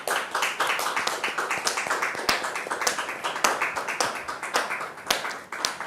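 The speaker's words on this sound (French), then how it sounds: "Recevons maintenant Dame Juliette sous vos applaudissements" Scattered hand claps from a small group at a church or religious gathering, sharp uneven bursts that rise and fade in waves, fairly close, with no talking.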